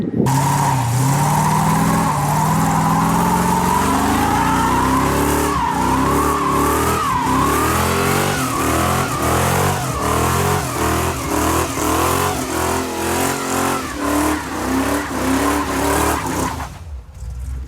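A 1962 Mercury Meteor with a 302 V8 doing a burnout, tires squealing continuously under a loud, revving engine that wavers in pitch, close and sustained for over fifteen seconds before cutting off.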